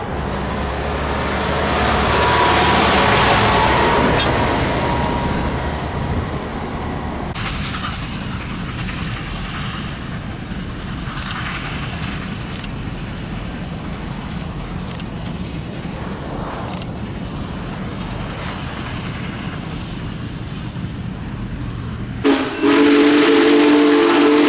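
Union Pacific 4014 steam locomotive rumbles through open farm fields in Louisiana, a broad roaring swell that builds, then settles into steady clanking rail noise before a sharp whistle blast cuts in at the end.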